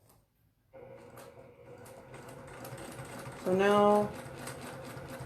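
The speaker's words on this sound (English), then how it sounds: "I'm just gonna sew." A sewing machine runs steadily for free motion quilting on a practice piece, with its motor humming and a short louder whirring burst partway through. A voice speaks briefly near the start.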